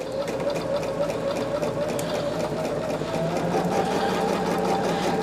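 A sewing machine hums close and continuously as quilt blocks for a Christmas quilt are pieced together, a steady even whir with a fine rapid needle pulse and no pauses.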